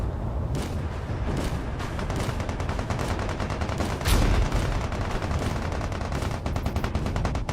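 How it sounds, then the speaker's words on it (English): Heavy machine gun fire from a Space Engineers RTS battle: loud, rapid continuous bursts, with a heavier blast near the middle. "Heavy machine gun is definitely helping out a lot."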